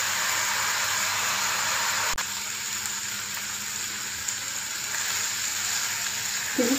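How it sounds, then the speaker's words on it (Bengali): Chicken meat frying in a pan with garlic and ginger powder for a Kolkata-style egg chicken roll, a steady broadband sizzle running evenly throughout with a brief click near the middle and a small clatter at the end. "এভাবে আমি 5 থেকে 7 মিনিট মাংসটাকে ভেজে নেব।"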